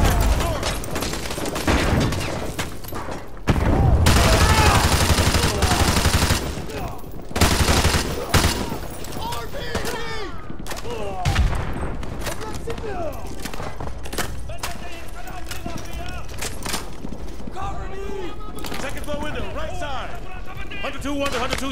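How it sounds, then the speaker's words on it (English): Call of Duty Modern Warfare 2 combat: dense, sustained automatic gunfire with bursts and booms crackles throughout, loud and close, while soldiers shout radio chatter and orders over it. "We are taking heavy fire from the school."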